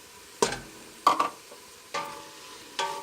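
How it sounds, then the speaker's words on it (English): Fresh basil being stirred into a pan of thickening tomato sauce gives four short, close scraping strokes spaced about a second apart, each with a soft wet rasp and brief sizzle, no voices. "You're going to stir that in."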